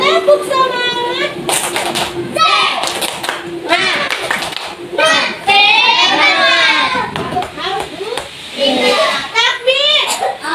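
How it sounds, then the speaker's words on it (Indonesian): Children in an Indonesian primary school classroom perform a rhythmic spirit clap, loud and close, with bursts of hand claps mixed with children's chanting and a teacher's voice. "Coba tepuk semangat."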